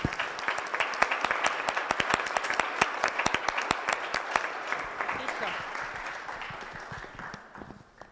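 Audience applause after a panel session at an international forum on feminist cities, many distinct hand claps forming a steady burst that gradually thins and fades toward the end.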